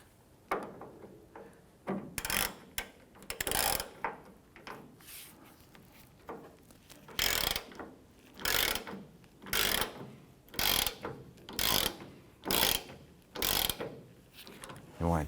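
Ratchet wrench tightening the tailgate hinge bolts on a Ford Ranger, repeated bursts of quick metallic clicking in short runs with brief pauses between, close and fairly loud.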